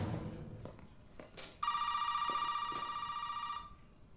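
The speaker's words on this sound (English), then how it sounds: "It's the phone." A telephone rings in the video game Resident Evil VII: a few soft taps, then one long, loud electronic ring that holds for about two seconds before cutting off.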